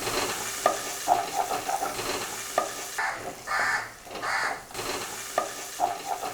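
Small onions fry in a pan for a Kerala-style hotel beef curry while a ladle stirs them, giving a close, steady sizzle broken by repeated scraping strokes and brief rustling surges.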